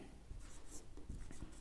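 Marker or chalk writing on a board during a Hindi grammar lesson, a steady faint scratching stroke with a few soft taps, close and alone with no talking.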